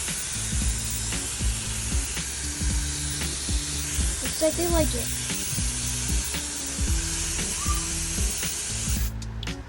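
A mist sprayer hisses steadily over dogs to cool them, with a faint rhythmic pulsing underneath, while a person talks briefly.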